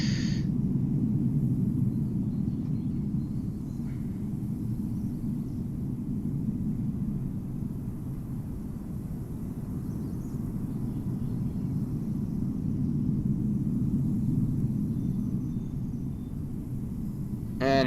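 Embraer E175 airliner approaching the runway at Amsterdam Schiphol in Microsoft Flight Simulator, cloudy weather: a steady low engine rumble and airflow roar holds evenly throughout, with faint higher hiss, no voices.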